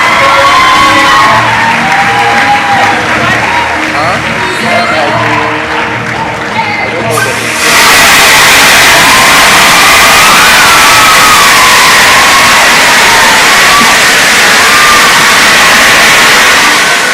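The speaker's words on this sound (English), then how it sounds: "A round of applause again as their teacher joins them" Loud applause and cheering from a festival audience in Kenya as a winning team's teacher joins them on stage, with whoops and shouting that swell sharply about halfway through, under ongoing talk.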